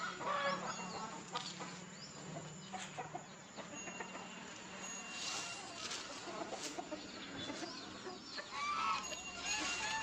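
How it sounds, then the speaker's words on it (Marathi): Chickens cluck and call in a village yard after wandering in through an open gate, with irregular nearby clucks and short calls over steady outdoor background noise. "कोंबडे आल्यात"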